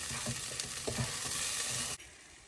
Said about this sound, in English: I'm going to stir so that the rice will be coated with the vegetables and the cooking spray